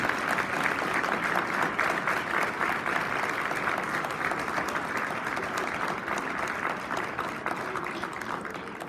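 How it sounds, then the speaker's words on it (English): An audience at a university athletics hall of fame ceremony applauds steadily for several seconds, a dense, even wash of clapping that slowly fades a little. "how about a big round of applause for all the women that you see in front of you tonight?"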